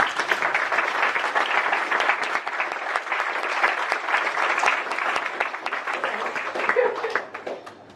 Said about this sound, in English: Then can I test you to give some applause to Tia, please